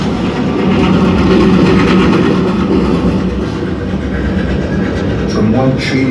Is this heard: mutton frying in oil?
no